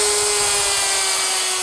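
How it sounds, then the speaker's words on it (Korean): A custom-built electric saw trims the wooden edge of a billiard table top, a loud, steady whine with a sustained tonal hum throughout the short burst and no speech. "원활한 작업을 위해 자체 제작한 당구대 상판용 전기톱이라고 하는데요"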